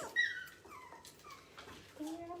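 Newborn puppies whimper faintly and close by, thin high whines and short yips rising and falling in a few brief bursts against a quiet room.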